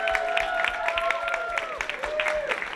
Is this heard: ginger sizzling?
no